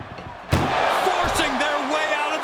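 An ambulance door slams once, sharp and loud, in the WWE 2K25 wrestling video game, followed by a sustained commentator voice and crowd noise.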